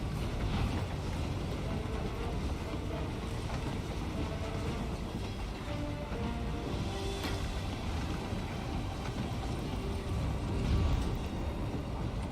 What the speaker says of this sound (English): Turns out this is a Russian train heading to Ukraine.